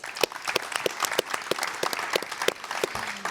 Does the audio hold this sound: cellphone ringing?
no